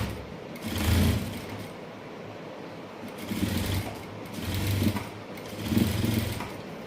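A sewing machine stitches a blouse (jumper) in repeated bursts, its motor whirring up and pausing between runs, close and moderately loud, with no talking.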